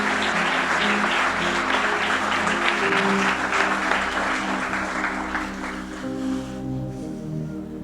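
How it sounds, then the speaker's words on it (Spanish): A church congregation applauds during a Yom Kippur sermon service, a dense, sustained crowd clapping heard alongside organ or keyboard chords that hold underneath, loud at first and tapering off toward the end. "¿Cuánto le aplauden al Señor?"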